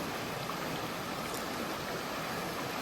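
Flowing water of Swift Creek, a fairly deep little canyon stream along the Florida Trail near the Suwannee River, heard from a bridge above as a steady, dense rushing hiss with no voices.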